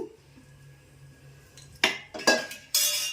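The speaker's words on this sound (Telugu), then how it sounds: "ఒక గిన్నె పెట్టేసుకొని తాలింపుకి నూనె పోస్తున్నానండి" A metal pot set down on a stove for tempering, then oil poured in: a quiet lead-in followed by several sharp metallic clanks and knocks, close and fairly loud, with no talk over them.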